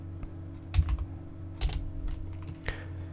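Short bursts of typing on a computer keyboard during a Forest Pack 3D software library setup, clustered keystrokes with pauses, fairly quiet and close over a low steady hum, no talking.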